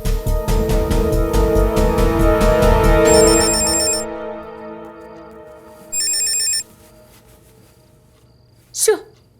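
A telephone rings in two short electronic trill bursts, heard over loud music that fades out, followed by a brief sharp noise at the end.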